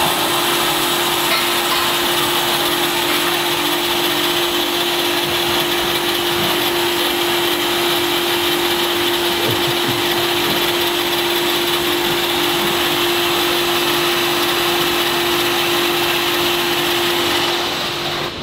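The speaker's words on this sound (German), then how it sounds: "So ein Roboterarm, der so ein Endrohr schleift und entgratet." Loud, continuous grinding and abrasive whirring of a robot arm grinding and deburring exhaust tailpipes, steady throughout with no voices.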